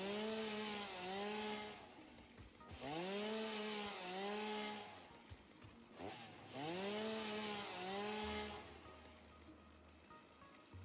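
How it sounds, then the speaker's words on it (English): A chainsaw in a video game cuts down mushrooms, its engine whining up and down through repeated loud bursts that rise and fall in pitch, with no talking over it. "this is a chainsaw"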